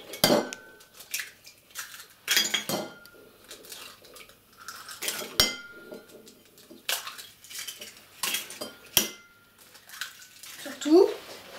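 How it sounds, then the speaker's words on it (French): Five eggs are cracked into a bowl for a gluten-free carrot cake, with sharp shell taps and clinks against the bowl, a few wet plops, and someone speaking between the cracks. "Alors maintenant on va casser les œufs."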